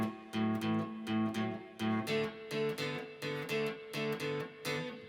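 Electric guitar chugs a 12-bar blues shuffle in A, with the rhythm in short, evenly spaced double-stop strums that bounce in a steady swung pulse. The playing is solo and close, with no voice.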